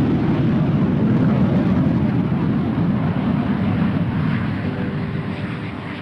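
A plane flies over close to a Navy flight line, a loud, steady broadband engine roar that holds for about six seconds and fades slightly toward the end, with no talk.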